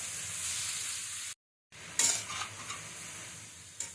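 Ash gourd pieces dropped into hot oil give a steady broadband sizzle, broken by a brief dropout, then a louder splash of frying with a few clinks of a utensil against the pan.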